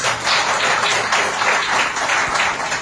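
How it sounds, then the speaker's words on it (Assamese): An audience at a memorial gathering bursts into sustained applause, many hands clapping together in a dense, steady wash that swells slightly and holds throughout, with no voices rising above it. "এটা হাত চাপৰি বিচাৰিছোঁ"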